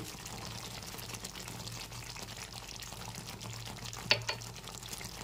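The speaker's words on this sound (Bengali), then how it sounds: "আবার একটু নেড়ে চেড়ে নিচ্ছি" Potato curry, aloo dum, with ghee sprinkled over it, stirred in a pan: a soft, continuous low bubbling and scraping with one sharper clink of the spoon near the end, close and quiet, with no talking.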